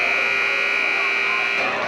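Basketball game buzzer at the end of the half, a loud, steady electronic tone that holds for almost two seconds before cutting off, with crowd noise beneath it.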